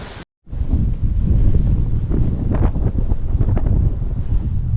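Strong wind of about 20 knots roars over a sailing boat at sea, buffeting the microphone loudly and continuously after a brief cut, with water rushing beneath.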